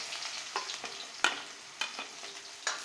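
Onions go into hot oil with blackened cumin and are stirred, producing a quiet sizzle broken by close, regular scraping strokes of a spoon against the pan.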